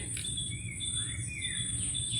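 Birdsong deep in the Sundarban forest, thin whistling calls and sweeping chirps over a steady insect-like hum, moderately near and without voices.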